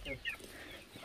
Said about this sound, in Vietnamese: Bây giờ đi xuống nhà để xem con gà.